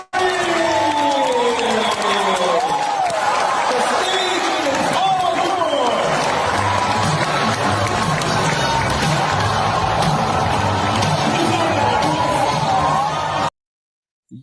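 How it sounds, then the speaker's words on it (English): An enthusiastic crowd cheers Prince Harry on his surprise visit to Shanghai, a dense roar of shouting and yelling voices rising and falling, loud and continuous, with a nearby voice speaking over it before it cuts off abruptly. "What an enthusiastic crowd."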